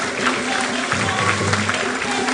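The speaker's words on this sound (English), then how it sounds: "Please give these schools a round of applause." A hall audience at a school quiz grand finale applauds the competing schools, a continuous broad patter of many hands that stays fairly loud and even throughout, with a low hum underneath.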